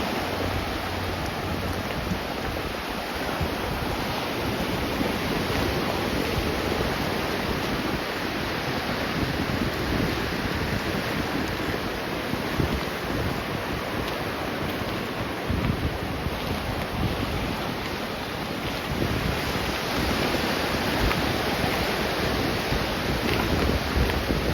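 Waves washing onto a beach on one of Florida's 10,000 Islands, a steady broadband roar of surf mixed with heavy wind buffeting the microphone, constant and loud throughout with no voices.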